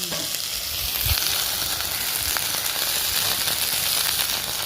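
Okra frying steadily in hot oil until golden, a dense, continuous sizzle with crackling and occasional stirring clinks, heard close and alone with no talk.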